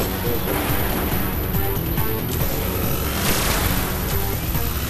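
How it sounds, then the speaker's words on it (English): Gunfire from a Destiny multiplayer fight, including sniper rifle shots, rolling as a dense, loud barrage of booming reports with no clear single shot standing out. "I'm gonna see what this sniper"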